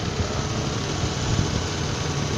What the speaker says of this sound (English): If you take out the silencer, obviously it'd be like really loud.